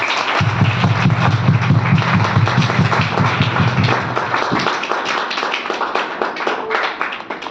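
Loud applause from an audience at a Hindi motivational business speech, dense clapping filling the clip, with a rhythmic low chant or beat beneath it for the first few seconds.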